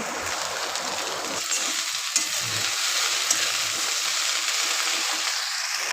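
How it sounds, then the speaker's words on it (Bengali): Okra fries in a pan with a loud, steady hissing sizzle that carries on throughout, and a couple of faint clicks along the way. "এদিকে ঢ্যাঁড়স ভাজা হচ্ছে"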